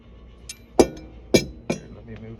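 An old German torque wrench with an aluminum handle is handled. It gives three or four short, sharp metallic clinks and taps in quick succession, fairly close and fairly quiet.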